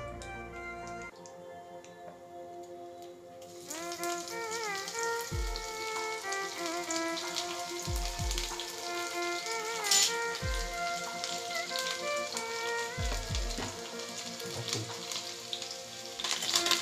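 A South Indian tempering of curry leaves and broken dried red chillies crackles and sizzles steadily in hot oil, with sharp pops and spatters over a continuous fizz, close and fairly loud.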